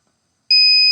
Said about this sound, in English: if you can hear my buzzer here in Australia, it's quite loud